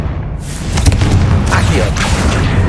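The Confringo blasting spell explodes in Hogwarts Legacy as a loud, sustained roaring blast with a rumbling low end that fills the whole moment.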